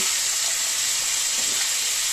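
Potatoes fry in a pan with a steady, even sizzle and hiss that holds at the same level throughout, close by and with no voices.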